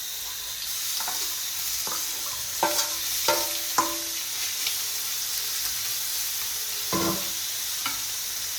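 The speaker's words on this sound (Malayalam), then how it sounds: "സോ നമുക്ക് ഫിഷ് പൊരിക്കാം." Fish frying in hot oil with curry leaves in a small pan, giving a steady faint sizzle with a few sharp pops and stirring clatters scattered throughout, no voices.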